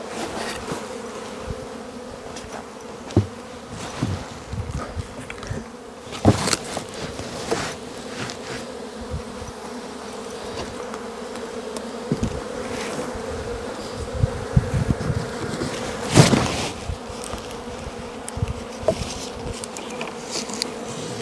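A swarm of honey bees in an apiary hums continuously up close during feeding, with occasional soft taps and rustles breaking through the drone.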